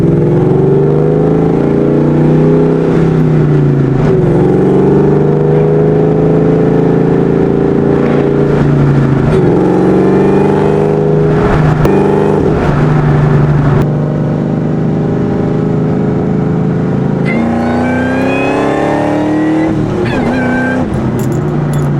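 A Ford Mustang GT with BBK long tube headers, an off-road H-pipe and a Borla ATAK exhaust revs loud and close, its engine note rising and falling through repeated pulls and gear changes.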